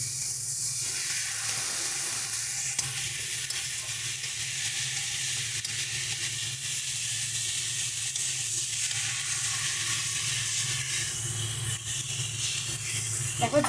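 Water poured into frying spice masala for a rohu fish curry, setting off a loud, continuous hissing sizzle that stays dense and steady, close up, with no voices.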